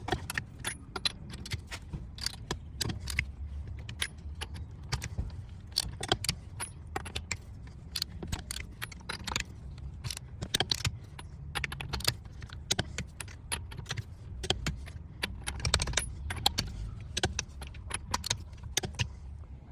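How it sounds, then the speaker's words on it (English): A torque wrench set to 100 foot-pounds tightens the lug nuts on a Chevy Cruze during a tire rotation, giving a close, steady run of sharp metallic clicks and ratcheting taps that lasts about twenty seconds with no talking. "take your torque wrench and set it to 100 foot-pounds, and we'll go ahead and tighten down all the lug nuts."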